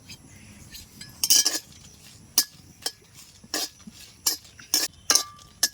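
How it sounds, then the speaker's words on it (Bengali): Metal utensil clinking and scraping while stirring dried red chillies frying in a pan for mango pickle, a series of irregular sharp knocks and scrapes over a low sizzling background. "শুকনো লঙ্কাটা একটু নাড়াচাড়া করে নেব"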